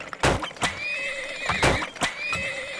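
A horse in the oil-drilling game Turmoil whinnies in a bright, wavering call, mixed with several sharp hoof clip-clops, close and clear with no talking.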